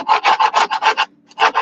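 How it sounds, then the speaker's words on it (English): Hand sanding on a model railway module, a close, loud rasping scrape repeated in an even back-and-forth rhythm, about seven strokes, a brief pause, then one more stroke. "I will sand this all out."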